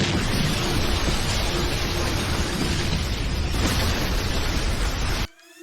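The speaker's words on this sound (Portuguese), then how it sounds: "provoca várias explosões por toda a cidade" Sustained roaring blast of cartoon explosions tearing across a South Park town, a dense, loud rumble that holds steady for about five seconds before cutting off abruptly into near silence.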